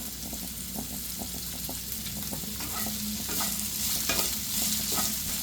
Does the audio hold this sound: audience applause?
no